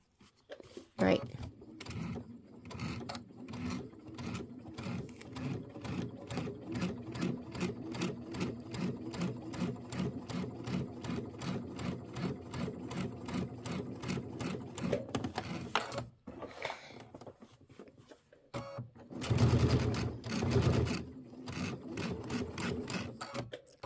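Sewing machine stitching a Kimberbell holiday tote bag, a rapid close mechanical chatter in long steady runs with brief pauses and restarts, and a voice talking quietly during the gaps.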